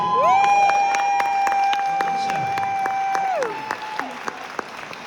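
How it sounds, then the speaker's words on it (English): Wedding guests at a reception at Isla Gladstone in Liverpool give a loud round of applause mixed with cheering, with a long sustained whoop or whistle riding over the clapping before the noise eases off. "let's have a massive round of applause here for Martin."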